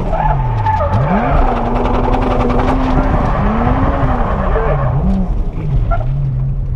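A car drifts on the Ebisu Circuit touge with the e-brake pulled, its engine revving up and down loudly while the tires squeal through the slide, close and sustained.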